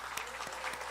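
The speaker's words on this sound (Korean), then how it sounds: "인사 다시 한번 인사할 때 크게 박수 주시기 바랍니다" A church congregation applauds at a Sunday morning worship service, a dense, steady wash of hand claps from a full room with a few sharper claps standing out.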